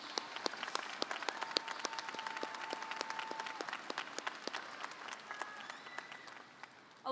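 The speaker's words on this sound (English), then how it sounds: "Grads, give everyone a big round of applause for helping us get to this point." A large graduation crowd at the Loveland High School 2023 ceremony applauds its teachers, sustained dense clapping filling a big hall with a faint background tone running beneath.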